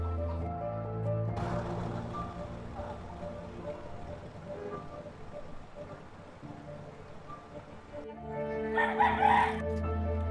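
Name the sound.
rooster crowing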